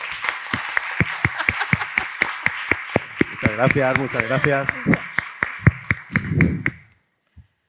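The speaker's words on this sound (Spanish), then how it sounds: "Un aplauso para ella, por favor." Audience applause at a healthcare panel on atherosclerotic cardiovascular disease, as a Madrid health service manager is introduced: a steady run of sharp claps, thinning out and stopping near the end, with someone speaking briefly over it.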